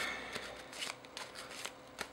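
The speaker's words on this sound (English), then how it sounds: "It's really difficult to shuffle that way." A deck of Yu-Gi-Oh! trading cards being shuffled by hand, giving a steady run of soft papery riffles and flicks with a few sharper snaps, close and alone with no talk.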